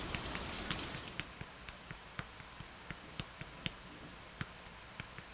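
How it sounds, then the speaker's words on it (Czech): Raindrops starting to fall in a quiet outdoor setting, heard as scattered sharp taps and ticks, sparse and irregular, fairly faint over a soft background hiss. "Začíná pršet."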